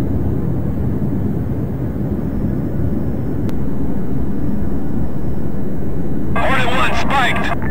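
Fighter jet on afterburner in Arma 3, a loud, steady low roar with a faint tone ending in a short radio-like crackle.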